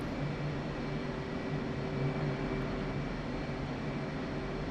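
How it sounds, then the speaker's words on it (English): Steady broadband roar of an F/A-18 Hornet jet in DCS as it slows with the speed brake out, a continuous engine drone with faint tonal hum running evenly throughout, no talk. "Let's slow her down. So speed brake out."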